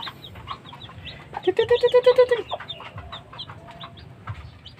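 A white Aseel rooster in a netted enclosure gives a run of rapid, rhythmic clucks lasting about a second, fairly close and clear amid faint background sounds.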